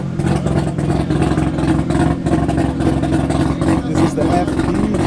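Mazda RX-7 FD with a rotary engine at a Cars and Coffee meet in Austin, running steadily near and loud, with a continuous engine drone, chatter around it.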